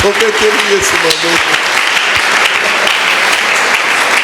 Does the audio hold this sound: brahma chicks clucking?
no